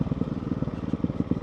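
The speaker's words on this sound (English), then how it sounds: "It's a new model, completely new engine. It's a single cylinder engine" The new single-cylinder engine of a Ducati Hypermotard 698 Mono motorcycle idles close by, a loud, rapid, evenly pulsing thump with a rough clattering edge and no voices.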